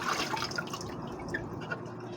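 Water splashes and trickles at a kitchen sink as dishes are washed, a continuous close wet patter with small drips and splashes throughout and no talking.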